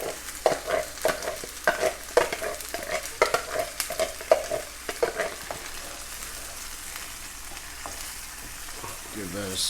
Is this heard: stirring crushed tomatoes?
yes